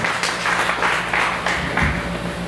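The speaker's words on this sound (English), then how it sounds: "Let's give the Lord a clap of praise." A church congregation gives a clap of praise, a near, rhythmic run of group claps in regular pulses with a low room hum beneath.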